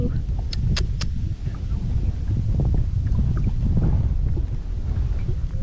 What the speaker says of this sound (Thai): ลมดีขนาดพี่น้อง